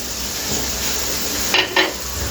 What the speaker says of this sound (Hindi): ये घी डाल रहे हैं हम